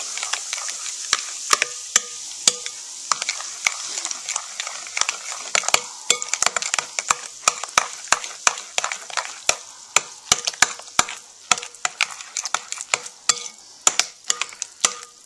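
Tocino marinade with 7-Up stirred briskly in a bowl, a rapid run of close clinks and taps from the utensil against the sides over a faint fizzy hiss, no talking.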